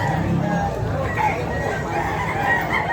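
A rooster crows and clucks among other fowl at the Malabon pet market, close and clear, over busy market clatter and murmuring voices.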